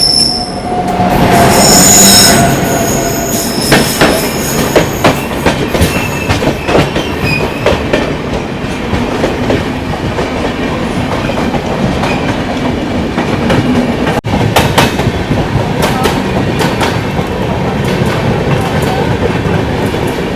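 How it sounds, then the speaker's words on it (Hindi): Sealdah Rajdhani Express rushing past a railway crossing, a loud sustained roar of wheels on track with sharp squealing and rhythmic clatter for the whole stretch, close by and with no talk. "एक्सप्रेस आ गई है क्रॉसिंग पे।"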